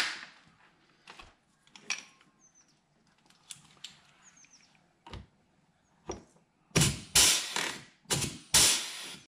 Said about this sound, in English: This is another place that I want to put another rivet